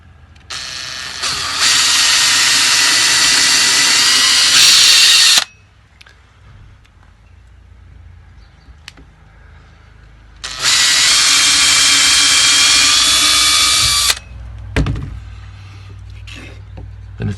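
A power drill whirs loudly through wood in two long, steady bursts of several seconds each, separated by a quieter pause with faint handling noises.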